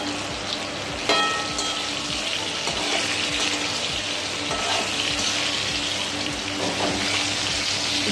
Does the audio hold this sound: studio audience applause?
no